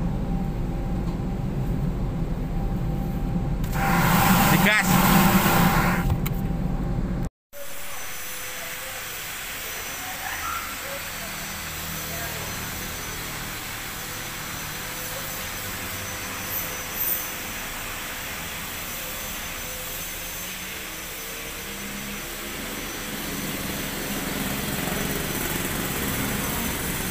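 An automatic car wash in Yogyakarta runs with loud machinery. A heavy rush of water and brushes fills the first seconds, then after an abrupt cut a steady roaring hiss of spraying and blowing continues, close and constant.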